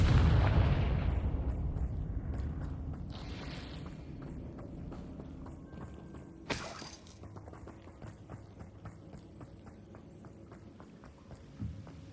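In Hogwarts Legacy on PS5, a Confringo fire spell bursts into a heavy booming explosion that rolls off into a long fading rumble, with a sharp crack partway through and faint clatter after.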